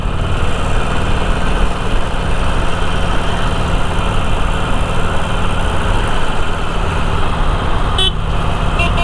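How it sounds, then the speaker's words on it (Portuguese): A motorcycle engine roars loudly and steadily throughout, thick and rumbling, with a brief horn-like burst near the end. "E o ronco desse motor, galera"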